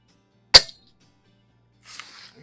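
An Umarex Iconix air pistol fires one sharp, close crack at plinking targets 50 yards away, followed by a quiet pause and then a faint distant clatter as the pellet strikes.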